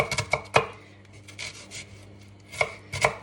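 An onion is chopped finely on a cutting board, quick knife strikes in two bursts, several sharp chops at the start and more near the end, with a quieter scraping lull between.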